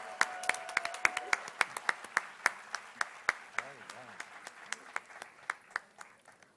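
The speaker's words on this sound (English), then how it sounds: "Let's give them a thumping round of applause." Audience applause at a university foundation day celebration, a fairly sparse patter of individual claps that starts brisk and gradually thins out, with faint voices in the background.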